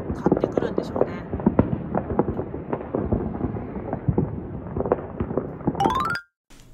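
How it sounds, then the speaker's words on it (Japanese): Fireworks set off around a neighborhood in the United States: a rapid, irregular series of sharp bangs and crackles, some near and some farther off, overlapping throughout, ending with a brief rising whistle. "普通にバンバン花火上がってて"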